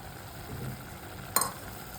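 A spoon stirs cashew paste into dum aloo in a pan, giving a quiet sizzle and soft scraping with one sharp clink of utensil against the pan partway through.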